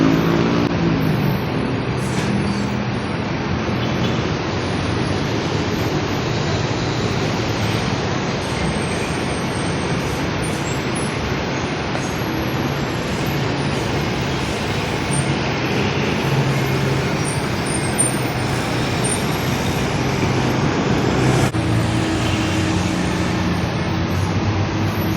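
Early morning road traffic as a dense, steady roar of passing vehicles, loud and continuous throughout with no break, and no voices heard.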